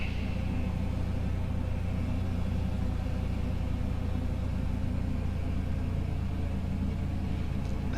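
A Piper Comanche piston engine in a flight simulator idles at about a thousand RPM, a steady low droning rumble that holds even and unbroken throughout.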